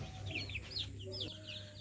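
A domestic poultry-type chicken, grown from a small chick, gives a quick run of high clucks and chirps, close by and moderately loud over a steady low hum.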